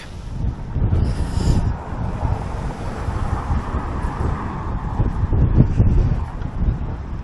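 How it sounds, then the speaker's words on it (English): Steady low rumbling buffets of wind hitting the microphone, continuous and fairly loud throughout, with gusts swelling now and then. "So it's a pretty windy day, as you're probably picking up."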